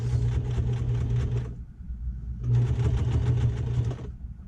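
Sewing machine running continuously while stitching over an existing seam on a handmade purse, close and loud, with two long bursts of steady stitching separated by a brief pause.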